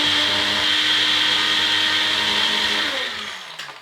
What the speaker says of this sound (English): Blend the biscuits dry.